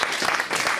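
Audience applause for a volunteer at a magic show, dense steady clapping from a crowd filling a short burst.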